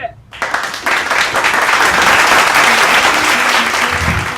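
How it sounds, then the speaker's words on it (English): Studio audience applause greeting a guest portraying Charles V on a classroom talk show about European rulers, loud, dense and sustained after a brief quiet start, continuing steadily to the end. "help me give a round of applause as we introduce Charles V"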